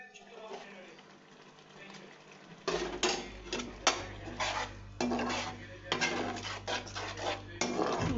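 Chilli, turmeric and coriander powders are stirred and fried in a pan, with a spoon scraping and clinking against the metal in repeated strokes over a low sizzle. The first few seconds are quieter before the stirring begins.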